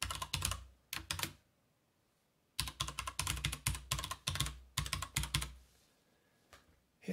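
Someone types a work email address on a computer keyboard in short bursts of quick, close key clicks, with brief pauses between the runs and no talking.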